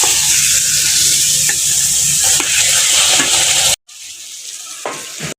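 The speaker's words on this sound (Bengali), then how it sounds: "মশলার সাথে লাউটাকে মিশিয়ে নেব।" A spatula stirs pre-fried bottle gourd into a fried spice paste in a pan for a catla fish curry, with a continuous sizzle and scraping clicks, then a brief break and a quieter stretch of stirring.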